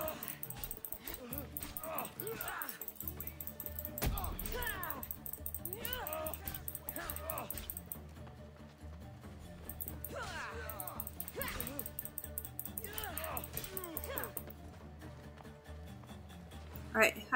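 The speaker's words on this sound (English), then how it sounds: "Oh, and they have a dog?" A dog in a video game barks and whimpers in scattered yips and whines over a steady bed of game ambience and music, with a person talking over it at times.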